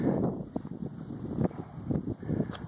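Gusty wind buffets a phone microphone outdoors near the Kilauea eruption area in Leilani Estates, giving loud, uneven low rumbling bursts that swell and drop throughout without any talk.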